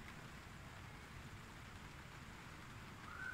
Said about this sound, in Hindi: और अभी बारिश की रिमझिम में आपको सुनाई दे रही होगी।